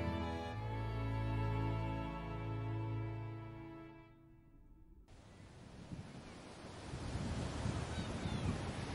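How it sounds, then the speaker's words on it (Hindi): Sea waves lapping against the shore, heard after a musical passage fades out; the surf wash rises into a broad, steady rush over the final seconds, moderately loud and alone. "तट से छलछलाती लहरें धीमे स्वर में गुनगुना रही हैं"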